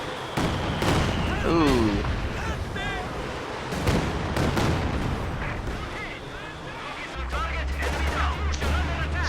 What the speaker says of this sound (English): Katyusha barrage coming in.